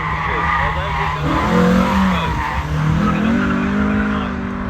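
A 1.6-litre Mazda MX-5 race car passes at a hillclimb, its engine note rising and falling with tyre squeal, loud and nearby, while a commentator talks over it.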